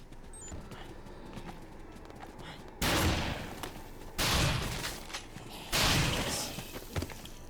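Gunfire in Dead Rising as zombies are shot: three loud, dense bursts of shooting, each lasting about a second, break over a low background of game ambience.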